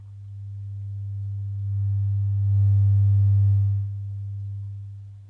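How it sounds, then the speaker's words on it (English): A steady 100 Hz sine test tone played through a Miller and Kreisel VX-7 subwoofer, a continuous low hum that swells slightly in the middle and stays alone with no voices. "I do have a 100 Hertz audio tone going into it."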